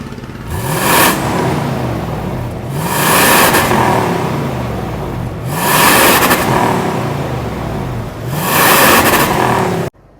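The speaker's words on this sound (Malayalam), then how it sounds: "അപ്പോൾ നമുക്ക് ഈ വണ്ടിയുടെ എക്സോസ്റ്റിനോട്ടൊന്ന് കേട്ടോക്കാം" A 25-year-old Lexus LX470 with a V8 engine revs hard through its exhaust, four loud, sustained bursts rising and falling in steady cycles, close by and with no voices.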